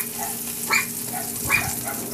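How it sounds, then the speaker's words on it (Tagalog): Garlic sautéing in a pan in leftover oil from frying fish, a soft steady sizzle up close with two brief scraping stirs standing out above it. "Igisa ko na rin yung bawang."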